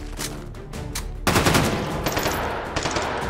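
A gun in the virtual-reality shooting game H3VR fires. A few separated shots come first, then a loud rapid burst of automatic fire, all close and without speech.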